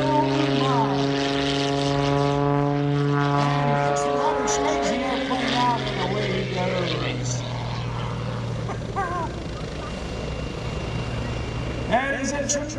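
A 350-horsepower aerobatic propeller airplane roars loudly and continuously at an airshow, its engine pitch sweeping up and down as it manoeuvres overhead, with an announcer talking over the sound.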